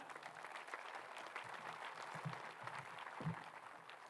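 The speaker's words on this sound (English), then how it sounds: "Big round of applause for Chris, please." Applause at a Montessori school graduation ceremony, a moderate, fairly distant crowd clapping continuously, with a few sharper louder claps standing out.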